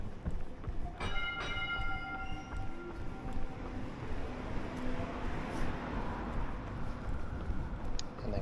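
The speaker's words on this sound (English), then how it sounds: "There's a tram there, and closely behind it is another tram." City tram passing on an early Sunday morning, its bell chiming clearly at the start and then a steady rumbling roll of wheels on track under low street noise, moderately close.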